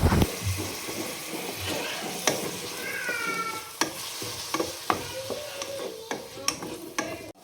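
Tomatoes frying and being stirred in a pan for a quick egg curry: a steady close sizzle broken by sharp scrapes and clinks of a spoon against the pan, with a brief high squeak partway through.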